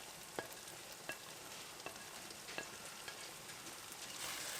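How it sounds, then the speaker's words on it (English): Onions stirred into ground meat cooking in a pan for shepherd's pie, a faint, low sizzle broken by a few soft spoon scrapes and taps spaced roughly evenly apart, with no talking. "we'll mix up the onions in there a little bit"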